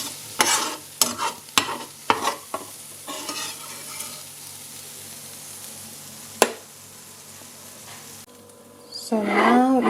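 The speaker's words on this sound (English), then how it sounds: "So we just fry a bit the garlic until a little bit yellow" Garlic being lightly fried in a pan: several sharp utensil knocks and scrapes early on over a low sizzle, one more clack later, then a voice speaks at the end.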